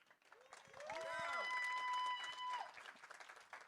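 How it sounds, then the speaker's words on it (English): Audience applause at the Impact Summit 2024 conference, a broad wash of clapping that swells and holds through the middle with whoops and cheers mixed in, then thins toward the end. "Give a round of applause for Mona."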